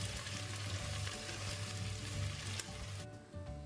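Chopped onions sizzle and crackle in hot oil in a pan for a spinach chicken curry, a dense close frying hiss with a brief stir, quieter at the end.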